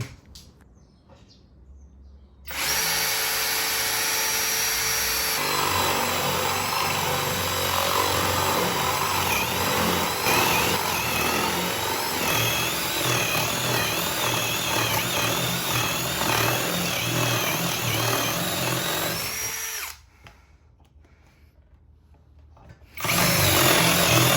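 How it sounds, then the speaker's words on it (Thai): A MASARU power drill with an interchangeable head runs in a drilling test, a loud, close, steady whine for about seventeen seconds, then a pause before it starts up again. "เดี๋ยวมาลองทดสอบเจาะกันเลย"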